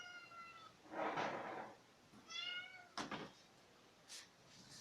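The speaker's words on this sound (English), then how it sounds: "Kitten is alive." A small kitten meows several times in short, high-pitched cries spaced apart, close by with quiet background in between.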